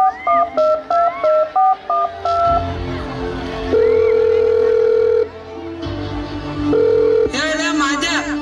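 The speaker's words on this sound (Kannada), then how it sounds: "ತಡಿ ಬಸ್ಯಾಗಾರ ಫೋನ್ ಹಚ್ಚ ಮುಂದ." A phone number is dialed on a mobile phone, giving a run of short keypad beeps, then longer sustained tones and a ringing tone, with voices and background music underneath.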